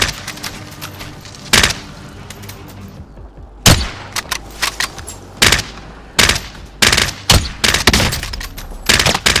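Gunfire in a battle royale video game: loud, close bursts and single sharp shots, some rapid automatic volleys, scattered irregularly with short quiet gaps between them and no speech.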